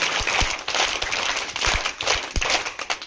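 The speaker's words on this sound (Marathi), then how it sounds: "आनंददायी पद्धतीने टाळ्या वाजवून 1 2 3 स्टार्ट." A group of school children clap to welcome a visiting folk performer, producing a loose, uneven run of claps with a few sharper close hand strikes standing out.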